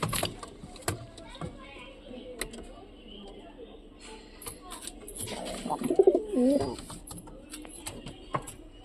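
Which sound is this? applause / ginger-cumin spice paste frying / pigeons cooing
pigeons cooing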